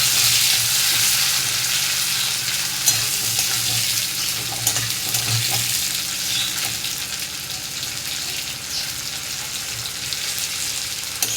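Chopped tomatoes fry with browned onions in a hot pan, a loud, dense, unbroken sizzle that holds steady throughout with occasional faint stirring sounds underneath.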